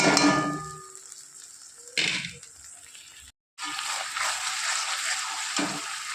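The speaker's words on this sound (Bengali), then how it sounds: "ভালো করে মশলাটা কষিয়ে নেবো যতক্ষণ কাঁচা গন্ধ না যাবে" Onion, ginger, green chili and tomato paste masala sizzles in a pan, with a loud burst as it goes in, then a steady hiss broken by a brief gap and stirring.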